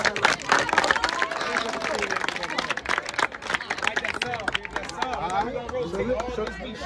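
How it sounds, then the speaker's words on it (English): A youth football team of 11- and 12-year-olds claps together on the field, a burst of rapid, loud, overlapping claps mixed with shouting and crowd chatter nearby. "Clap it up."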